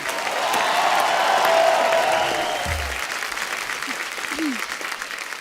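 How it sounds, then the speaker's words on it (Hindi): A studio audience on a comedy talk show claps steadily to welcome actress Nora Fatehi, sustained applause that swells then eases, with a few faint voices underneath. "नोरा के लिए जोरदार तालियां"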